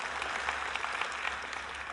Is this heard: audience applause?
yes